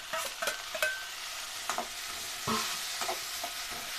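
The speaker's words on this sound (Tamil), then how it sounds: "வெங்காயம் நல்லா வதங்கிருச்சு இந்த டைமில் தக்காளியை கொட்டணும்" Tomatoes go into a pan of onions sautéing for a Chettinad baby corn gravy, bringing a quiet, steady sizzle broken by several clinks and scrapes of stirring.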